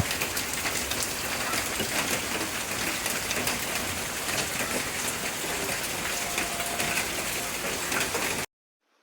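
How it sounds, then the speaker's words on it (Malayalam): Heavy rain pours down in a dense, steady hiss of drops drumming on surfaces for about eight seconds, loud and unbroken, then cuts off abruptly into silence. "ഓഹ് എന്തൊരു മഴയാണ് കോരിച്ചൊരിഞ്ഞ മഴയായിരുന്നു"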